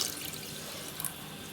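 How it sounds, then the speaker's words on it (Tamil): Water poured into washed rice in a pot for sweet and milk pongal, a steady close splashing stream over about a second and a half with no talk. "4 பங்கு தண்ணி விடுறோம்."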